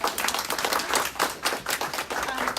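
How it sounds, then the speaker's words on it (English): An audience applauds at a 2019 Girl Power Contest awards celebration, a dense, steady patter of many hands clapping close by, continuous throughout with no voices over it. "give yourselves a round of applause"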